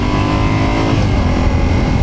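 A Yamaha Tenere 700 motorcycle engine runs steadily while riding, a loud, dense, even drone with wind rush and no break in its level.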